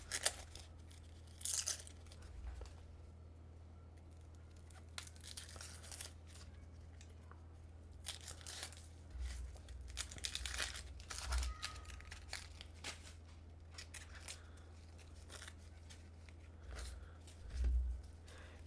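An onion, already cut in half, has its outer layer peeled off by hand in a kitchen, giving quiet dry crackles and tearing rustles in scattered bursts, with no talking.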